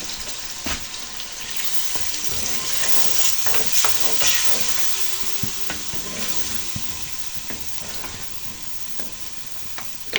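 Lentils cooking in a pan after roasting, a steady close sizzle with stirring scrapes and occasional clicks of a utensil against metal, continuous for about ten seconds.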